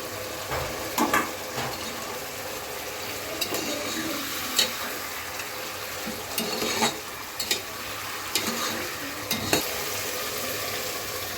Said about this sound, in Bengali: এখন ভেজে রাখা মাথাগুলো দিয়ে দেবো এগুলো দিয়েও খুব ভালো মতো আমি কষিয়ে নেব